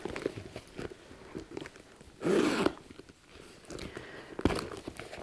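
The zip on a large pocket of a Proenza Schouler bag is pulled in one quick, close rasping stroke, followed by light fabric handling and a soft final tug.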